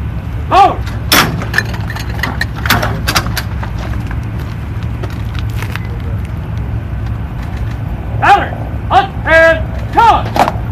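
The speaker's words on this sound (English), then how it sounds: "gun salute. 5 second intervals. All guns." Ceremonial 21-gun salute fired in a 9/11 remembrance, with sharp outdoor gun reports at intervals and a rumbling background, while commands and voices are called out nearby.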